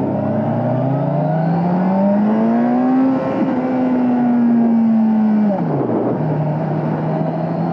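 A 2022 Kawasaki Ninja 1000SX motorcycle pulling hard in a short burst, its engine tone climbing steadily through a loud, close rev before the pitch drops at a shift and settles back into a steady drone.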